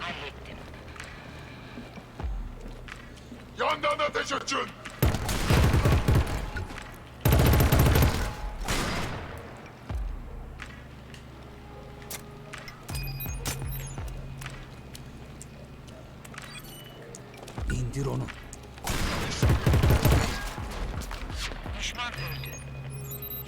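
Gunfire in the PS4 shooter Killzone Shadow Fall, loud bursts of rapid shots in several clusters with quieter stretches between, with a voice talking over parts of the action.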